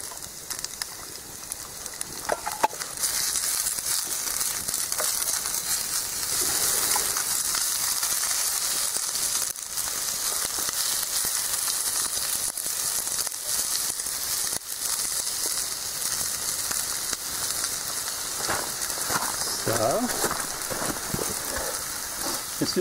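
Onions fry in a pan on a hand-built outdoor stove with a steady, close, continuous sizzle and hiss that runs unbroken throughout, with no talking.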